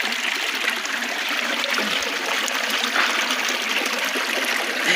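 Clean spring water flows in a hillside stream, a steady close trickling and gurgling rush that continues unbroken with no voices.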